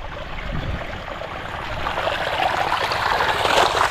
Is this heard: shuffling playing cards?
no